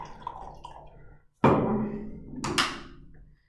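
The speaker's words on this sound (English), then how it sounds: "Excuse this sound, it's me pouring coffee." Coffee poured into a cup close by indoors: a sudden splashing pour that tails off, a brief second surge, then silence.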